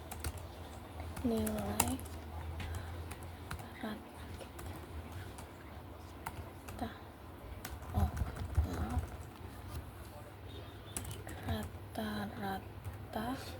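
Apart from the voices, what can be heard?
typing on a computer keyboard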